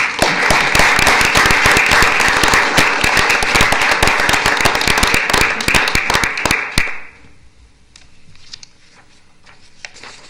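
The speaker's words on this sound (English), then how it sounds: "I think a round of applause for all of them would be in order." Dense applause from the audience at a town board meeting, loud and sustained for several seconds before it stops abruptly, leaving a quiet room with a few scattered sounds.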